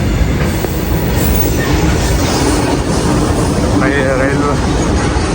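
A train rumbles past a closed railway level crossing with continuous rolling clatter and wheel noise close by, while voices talk over it.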